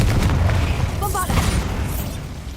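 A Bombarda blasting spell goes off in the Hogwarts Legacy video game, a loud booming explosion with a rumbling low-end tail and a brief crackle of debris.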